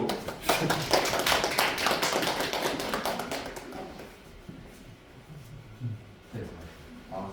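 Audience applause at a winter school information session for a high school academy, a dense burst of clapping that swells and then thins out after a few seconds, followed by quieter room sound with a voice speaking.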